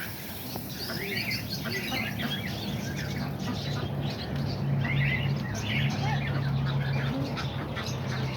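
Pigeons milling around their loft outdoors: scattered soft coos and chirps with occasional fluttering over a steady low hum, and faint background voices.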